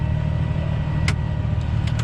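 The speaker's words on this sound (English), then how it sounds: "This tractor is handling this thing like there's nothing behind it." A tractor pulls a ground ripper through soil, its engine giving a steady, loud, low rumbling drone at close range, with a couple of brief higher clanks over it.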